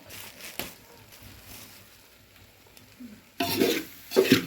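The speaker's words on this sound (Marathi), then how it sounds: "मिक्स करूया बघा सगळं" Homemade red chilli powder being stirred into a village-style chicken curry with a ladle, giving soft scraping and sizzling that swell into two louder bursts near the end after a quieter stretch.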